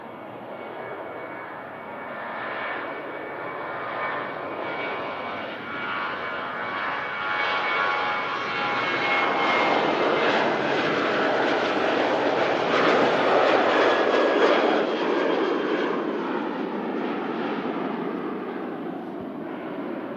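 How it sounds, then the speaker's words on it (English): A Qatar Airways A350 jet lines up at Manchester Airport, its engines a broad, distant roar that swells gradually and holds steady, with no talk. "Qatar A350 lining up."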